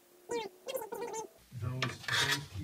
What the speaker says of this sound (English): we can just use the calipers to scribe the lines